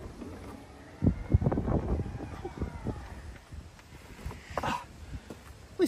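Gusty wind blows outdoors in the UK beside a Tesla Model Y, buffeting the microphone with low rumbling noise that rises and falls, while faint voices can be heard underneath.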